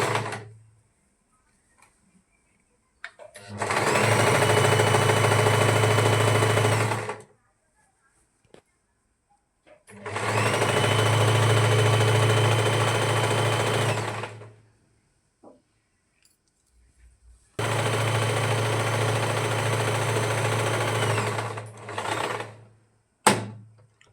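Sewing machine stitching an underskirt runs in three loud bursts of rapid whirring, each lasting about four seconds and separated by quiet pauses.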